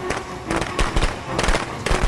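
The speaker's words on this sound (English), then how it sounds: "Let's put down the firecrackers." Firecrackers set off in the Friday the 13th video game crackle as a rapid string of sharp pops in irregular bursts, loud and close with game background noise.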